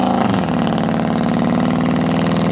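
A straight-piped OBS pickup truck engine rumbles loud and close, a harsh, throbbing exhaust note holding steady throughout with no voices.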